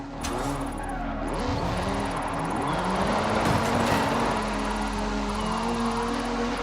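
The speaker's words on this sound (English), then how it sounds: "This is Mr. Kenneth Block's Hooligan Gymkhana 10 Ford Focus RS RX." In Forza Horizon 5, the Hooligan Gymkhana 10 Ford Focus RS RX rally car has a 2-litre turbocharged front-mounted engine that holds a steady droning note with gentle rises in pitch, moderately loud and without voices.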